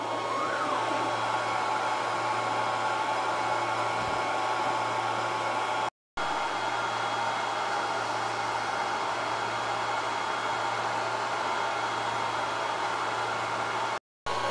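A Longer B1 40W laser engraver burns a butterfly mandala at 3,000 mm/min and 50% power, giving off a steady, loud, even whoosh of fan and air noise that runs unbroken apart from two brief cuts.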